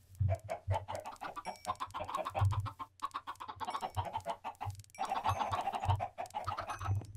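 Several chickens in the video game Minecraft cluck and squawk in quick, uneven bursts, nearby and fairly quiet, with short gaps between the calls.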